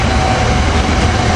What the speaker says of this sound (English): Coming in through the haze is train 503 to Thorndale